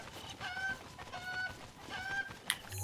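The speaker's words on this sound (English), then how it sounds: "where the Cuccos live, where there are chickens" Cucco chickens cluck in repeated short bursts in a Zelda game, fairly quiet, with a brief sharp knock near the end and no talking.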